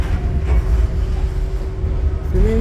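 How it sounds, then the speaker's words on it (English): Rumbling, clattering ride aboard a subway train heading to Manhattan, a steady loud low roar with faint rail squeal and a rising whine near the end, no talk. "Filming from the train here."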